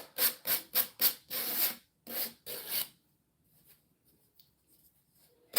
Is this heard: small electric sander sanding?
yes